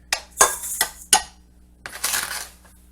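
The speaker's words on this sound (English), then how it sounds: "So I'm putting 5 of these coffee mugs in here." Sugar poured from coffee mugs into a bowl while making holiday cookies: a series of four sharp ceramic clinks and scraping pours close up, then a softer rushing pour of granules at the end.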